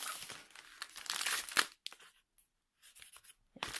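Close, loud crinkling and tearing of plastic packaging and bubble wrap while a diamond painting kit is unwrapped, in irregular bursts that thin out into sparse rustles and short pauses.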